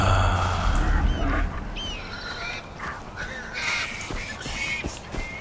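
An eagle in the video game Far Cry 4 lets out a few sharp, sweeping screeches over busy in-game ambience and rumbling low background noise.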